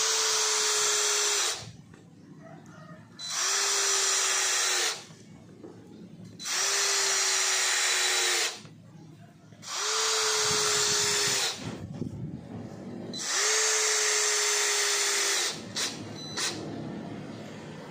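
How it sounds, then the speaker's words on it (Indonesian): Worksite CD334H cordless impact drill driving screws into mahogany wood without pre-drilling, using the stock screwdriver bit: five loud whirring bursts of about two seconds each, separated by short pauses, with nobody talking. "Di sini saya akan menyekrup menggunakan sekrup dengan ukuran yang biasa digunakan ya. Untuk medianya masih sama, kayu mahoni, dan ini tanpa pre-drilling."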